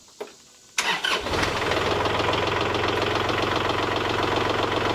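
A Kubota 3901 tractor's diesel engine cranks briefly after a quiet moment, then catches and settles into a loud, steady idle with a rhythmic knocking chug that continues to the end.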